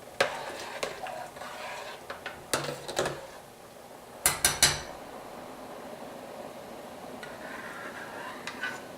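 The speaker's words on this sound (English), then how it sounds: "Give them all a stir." Dried chickpeas being stirred in a pot of water on an induction cooktop, with scattered clinks and scrapes of a utensil against the pot and a short loud clatter near the middle, then quieter swishing.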